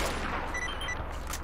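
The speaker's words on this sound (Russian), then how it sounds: "Ну ладно, стреляем." Gunfire in the Call of Chernobyl video game forms a dense, sustained rattle of shots, loud and constant throughout the short burst.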